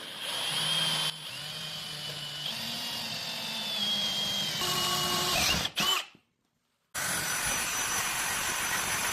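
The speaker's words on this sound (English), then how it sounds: "Use a 5/8 drill bit, really sharp, clean bit, and just go all the way through." A power drill bores a 5/8 inch hole through a floor for a beach ladder install, its steady high whine running for about six seconds, briefly dropping off, cutting out, then starting up again close by.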